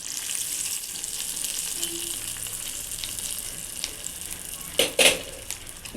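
Raisins and cashews fry in ghee for sabudana payasa with a steady, bright sizzle throughout, and a few louder stirring clatters from the pan come near the end.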